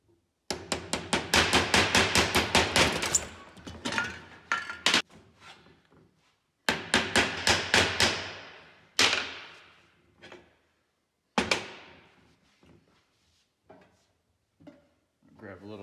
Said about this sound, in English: I'm gonna tap it all the way around evenly and slide your cap in so you can tap that side in.